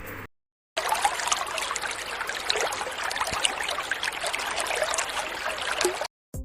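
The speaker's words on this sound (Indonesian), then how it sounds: "Di sini siapa yang pernah main ke sungai? Coba dengarkan suaranya." River water flows and trickles steadily, a broad continuous rushing babble heard alone and close, cut by brief silences at the start and end.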